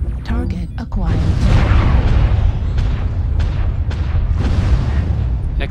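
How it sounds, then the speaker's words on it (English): Missiles slam into a mech in MechWarrior Online, a loud rumbling barrage of booms and sharp impacts that keeps going for several seconds, with a voice talking over it. "So we're shooting missiles at him."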